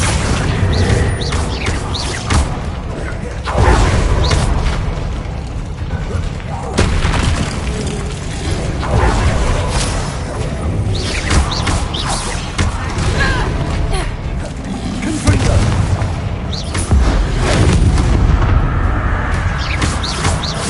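Repeated booming spell blasts from Bombarda and Confringo in Hogwarts Legacy burst out one after another over a dense, noisy battle, with spoken incantations mixed in among the explosions.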